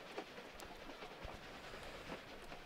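A train rolls along in Tomb Raider 4, a steady rumbling hiss with faint rhythmic clicks of the wheels throughout, fairly quiet and with no voices.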